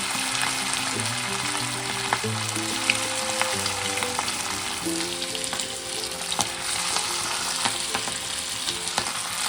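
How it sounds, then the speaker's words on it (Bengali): Marinated chicken fries in a pan with a steady, even sizzle that runs throughout, under a soft melodic tune. "এই যে ম্যারিনেট করা চিকেনটাকে দিয়ে দিচ্ছি"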